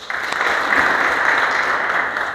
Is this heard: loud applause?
yes